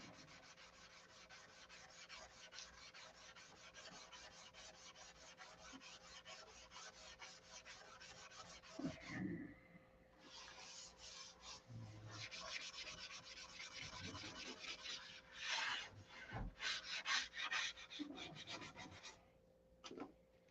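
Hand sanding on a SIG Magnum, a continuous close rasping rub with steady back-and-forth strokes through most of the span, briefly pausing midway, with faint background sounds and no clear talk.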